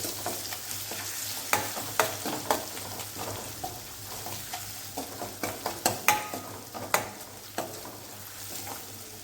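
A spoon stirs coriander-cumin powder, garam masala and salt into dry vegetable sabzi frying in a pan, giving a steady soft sizzle with repeated close scraping strokes and small clacks throughout.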